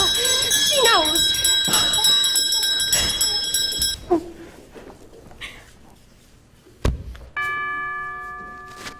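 A bell rings out with bright sustained tones amid excited voices shouting and talking, then rings again after a thud, its tone clear and near.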